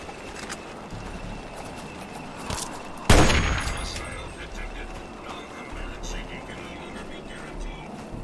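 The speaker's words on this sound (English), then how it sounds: "Sniper rifle." A single loud sniper rifle shot cracks out in Fallout 3, followed by a decaying rumble over steady game ambience.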